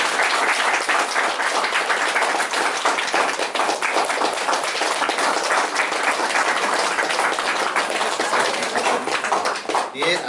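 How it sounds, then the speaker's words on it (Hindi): Wedding audience clapping in sustained, loud, dense applause that runs the whole time without a break, with a crowd murmur underneath. "ताली बजा देंगे।"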